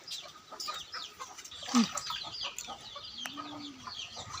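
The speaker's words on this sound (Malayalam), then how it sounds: "അതിൻ്റെ കോഴികളും ഉണ്ട് ഇവിടെ" Chickens cluck softly nearby with a few short squawks, no voices, and a faint background hum.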